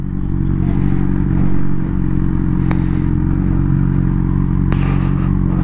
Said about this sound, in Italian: Mettiamoci a sgamo vicino alle moto grosse.